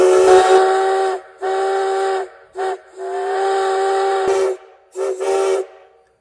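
A loud Canadian National five-chime steam locomotive whistle sounds in several blasts, two long and a few short, with a rich multi-tone chord and hissing edges.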